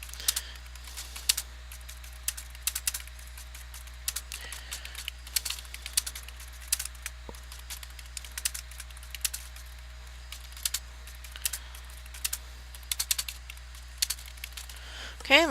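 Computer keyboard typing during a live online English lesson, irregular bursts of light key clicks spread across the whole stretch over a low steady hum.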